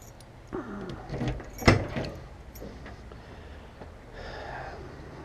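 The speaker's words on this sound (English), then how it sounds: "Get the keys." A brief jingle of keys being picked up, with soft handling clicks and knocks around a car, fairly quiet and close, with no speech.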